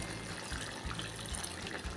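Water pours steadily into a pot in a low, continuous splashing gush, nearby and fairly quiet, with no talking.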